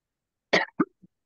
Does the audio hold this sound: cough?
yes